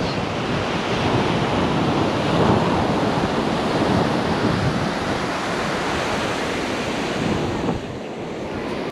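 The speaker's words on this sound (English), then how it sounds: "Hapuna Beach." Ocean surf rolling onto Hapuna Beach on Hawaii's Big Island, a steady loud wash of waves with wind buffeting the microphone throughout, no voices.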